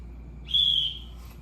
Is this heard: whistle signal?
yes